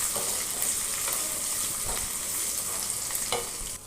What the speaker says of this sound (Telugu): ఇప్పుడు పోపులో కొంచెం పసుపు వేసేసుకొని అది కూడా కొంచెం ఫ్రై అవ్వాలన్నమాట